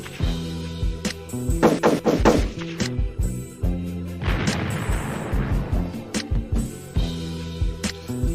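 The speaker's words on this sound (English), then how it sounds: "Gunshots for 223." A podcast host drops a burst of gunshot sound effects over a music bed, with a rapid volley of loud punchy cracks in the middle and heavy booming hits scattered throughout, and no talking.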